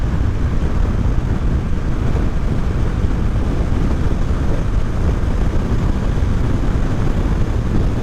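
Honda CBR 250R sport motorcycle cruising at sustained high speed on an open road, a steady, loud broadband roar dominated by wind rush over a low engine drone, unbroken throughout with no voices.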